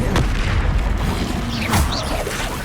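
Spellcasting combat in the Hogwarts Legacy video game: an Expelliarmus spell fires off with a loud booming burst and whooshing magical effects amid continuous, dense battle noise.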